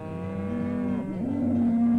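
A cow in a herd gives a loud, close, drawn-out moo with a sliding pitch that swells toward the end, heard alone without talk.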